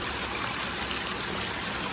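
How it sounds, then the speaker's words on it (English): River and waterfall drainage pours through a stone arch in a rocky wilderness gorge, a constant, dense rush of flowing water heard up close, steady and loud with no voices. "drainage that comes through the falls, through the arch, runs down into the river here."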